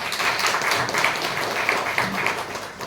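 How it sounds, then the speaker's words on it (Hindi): An audience claps steadily for an NDRF disaster-management team at a Brahma Kumaris hall in Bhopal, sustained dense applause throughout, close and fairly loud. "इनके लिए तालियां बजाओ"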